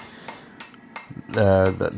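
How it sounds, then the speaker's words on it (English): Rounding hammer striking a forged steel cutlass guard on an anvil: three sharp, separate ringing blows, then a louder cluster of bright, resonant metallic rings. "I'm kind of back to the anvil again with the hammer to kind of fine tune that shape"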